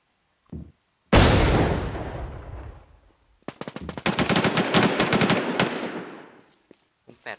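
Gunfire in the survival shooter Infestation The NewZ: one heavy blast with a long decaying tail, then a rapid automatic burst of many sharp shots that stops abruptly, with no talk.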